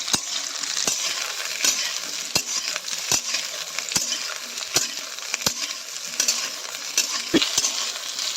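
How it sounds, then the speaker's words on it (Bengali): Pointed gourd (patol) frying in oil while stirred, a continuous close sizzle punctuated by sharp metallic clicks of a spatula against the pan at irregular intervals. "পটলটা একটু লাল করে নেড়ে নেড়ে ভেজে নিচ্ছি"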